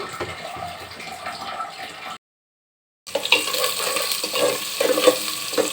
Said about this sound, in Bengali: এখানে আগে থেকে তেল গরম দিয়ে রেখেছিলাম তারপর কাঁচামরিচ পিঁয়াজ দিয়ে দিচ্ছি